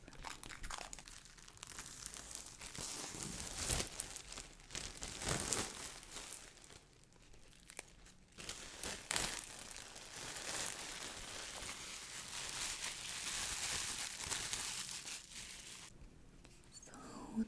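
World of Warcraft poster collection packaging being unwrapped close up, with continuous soft crinkling and tearing of plastic wrap that swells and fades in bursts over about seventeen seconds, with quiet speech in places.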